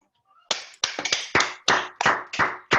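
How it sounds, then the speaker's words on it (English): Online meeting attendees applauding over their unmuted microphones, a handful of distinct close claps in an uneven rhythm after a brief quiet start, sharp and fairly loud. "I was going to ask if we could all just unmute for a second and give Vlad a round of applause for that great presentation."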